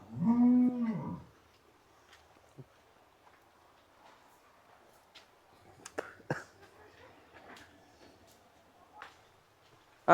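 An HF cow gives one loud, deep moo at the start, followed by quieter clatter and faint background noises.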